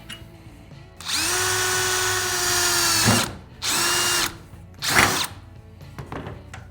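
A power drill deburrs a rivet hole for a jon boat storage deck in three close, loud whirring bursts: one long run, then two shorter ones with quiet gaps between.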